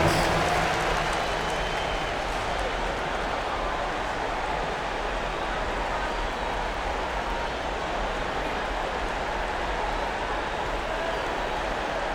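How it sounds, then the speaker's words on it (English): Crowd applause in an NBA 2K25 basketball arena during a Bucks at Bulls playoff game, a steady, dense wash of clapping and crowd roar that holds at an even level throughout. "Give yourself a round of applause."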